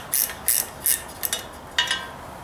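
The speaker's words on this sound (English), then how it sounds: "Oh, I love the ratchet wrenches." A ratchet wrench clicks in short bursts while turning a bolt on a 1944 Ford 2N tractor, five or six crisp close ratcheting rasps separated by brief pauses, with no talk.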